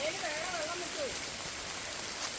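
Rain falling steadily outdoors as a broad, even hiss, with faint melodic voices or sounds drifting over it early on.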